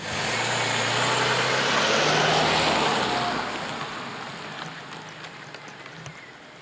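A new car pulls away in drive mode, its broad engine and road roar loud and close at first, then easing and receding over the last few seconds with no talk.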